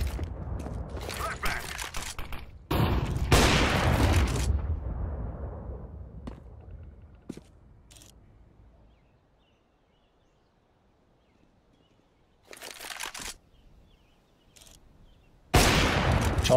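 Gunfire in Counter-Strike 2 comes in loud bursts near the start, with mechanical clicks and weapon handling between them, then fades to near silence before a few more sharp shots and a final loud burst.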